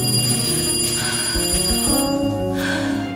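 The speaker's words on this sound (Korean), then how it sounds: "갑자기 한 통의 전화가 걸려오는데요" A telephone rings with an incoming call in a Korean drama scene, a repeated electronic ring sounding over a music bed and ambient background for a few seconds.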